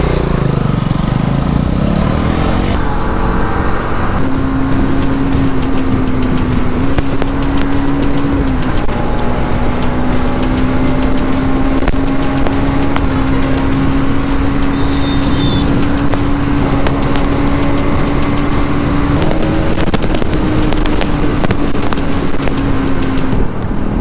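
A Bajaj Dominar 400 motorcycle with a twin-barrel exhaust rumbles loudly while riding alongside other bikes on a group ride, with steady engine drone and wind rush and shifting revs throughout.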